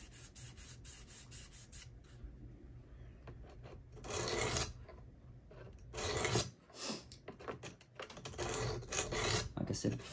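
A knife is drawn across an oiled sharpening stone on a Worksharp Professional Precision Adjust sharpener, making a few quiet, separate rasping strokes amid near silence.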